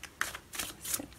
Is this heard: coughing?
no